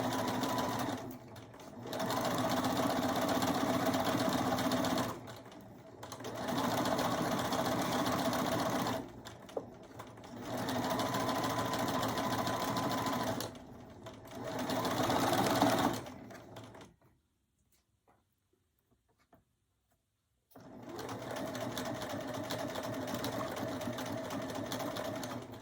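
A serger runs in four steady bursts of several seconds each while finishing a garment hem, with a short quiet pause before a final long run; a voice is faintly present.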